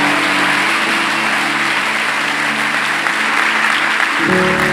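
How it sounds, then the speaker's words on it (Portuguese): Loud, sustained applause from a church congregation during an Easter service, a dense steady wash of clapping that fills the whole stretch, with a low hum of music or organ tones underneath. "Aplauda Jesus bem forte onde você está."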